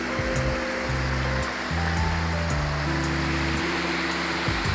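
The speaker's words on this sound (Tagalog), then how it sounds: "Lakas ng tubig, oh." Strong rushing water pours from a dam gate at a river park in Bagac, Bataan, a loud, steady broadband roar that fills the whole stretch without pause, with a faint low musical tone running beneath it.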